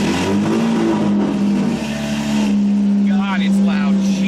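A straight-piped 1000 hp Toyota Supra engine fires up and settles into a loud, steady, droning idle with a harsh exhaust rasp, under continuous talk.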